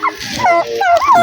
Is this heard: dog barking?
yes